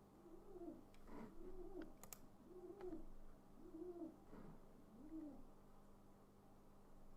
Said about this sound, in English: that's the other pigeon calling